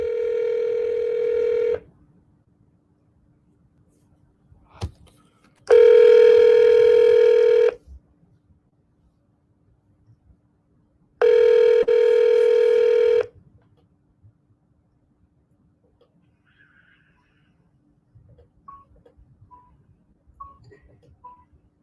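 A telephone ringing on a call, heard through the line as three long rings separated by pauses of a few seconds, loud and clear with no talk, followed by faint clicks.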